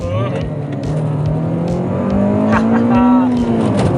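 A Honda Civic EG6 VTi with a VTEC engine revs hard, its loud engine note climbing steadily in pitch as it accelerates. It is heard close up from inside the car, with no talk over it.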